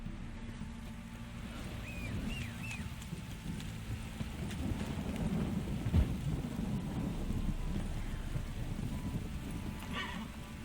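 Rain falls in a Witcher 3 game scene with a steady hiss and a low rumbling of thunder, plus a brief horse whinny early on, all moderately quiet and continuous.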